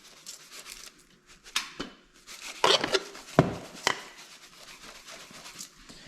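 Dry granular floor absorbent is scattered and scuffed across a race shop floor, giving a few close gritty scraping and rustling bursts with pauses between them.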